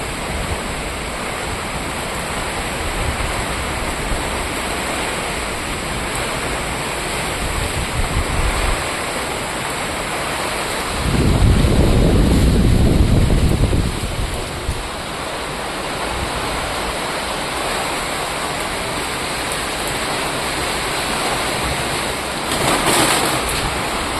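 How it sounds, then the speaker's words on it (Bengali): A stormy gale with rain blowing across an open rooftop, a steady roaring wash of wind and rainfall with one louder gust surging for a few seconds midway and another rising near the end. "দেখো ঝড়ের মতন হাওয়া দিচ্ছে আর বৃষ্টি পড়ছে।"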